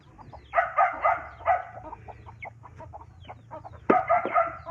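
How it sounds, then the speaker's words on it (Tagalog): Chickens cluck close by on a rural province farm, with a rooster's crow rising among bursts of calls that come in uneven clusters, loudest at the start and again near the end. "Kawawa yung mga manok."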